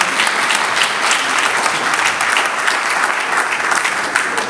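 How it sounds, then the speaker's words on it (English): A church congregation applauds loudly and continuously after a pastor's address, a dense, even wall of clapping from many hands with faint crowd voices blended in. "Let's give them a big cheer."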